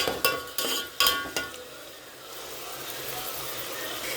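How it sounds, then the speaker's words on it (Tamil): Ginger garlic paste sautéed in a pan for eggplant biryani, with a few sharp clanks of a spoon against the pan early on, then a steady soft sizzle. "இஞ்சி பூண்டு பேஸ்ட் போட்டுக்கலாம் நல்லா வதக்கிடலாம்"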